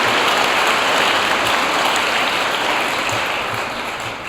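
Dense, loud audience applause at an all-school meeting forms a steady wash of many hands clapping together, then tapers slightly toward the end.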